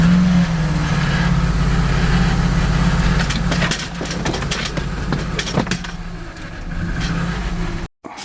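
A squarebody diesel Chevrolet Suburban with its check engine light on runs rough nearby, a loud, uneven engine drone with irregular stumbles and surges, heard alone.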